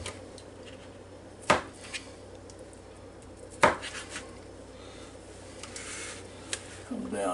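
Two sharp knife strikes on a cutting board chopping vegetables for chicken soup, spaced a couple of seconds apart, with a few softer taps and light kitchen clatter in between.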